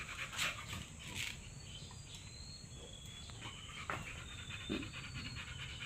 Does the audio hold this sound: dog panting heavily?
yes